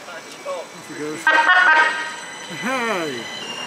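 A tram-train horn blares with a bright, tonal blast at Rotherham Central station, sounding once then again, with voices talking around it.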